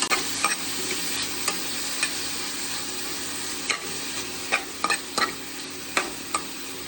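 Whole spices for pulao fry in a pan with a continuous sizzle, broken by sharp scraping clicks of stirring at irregular intervals.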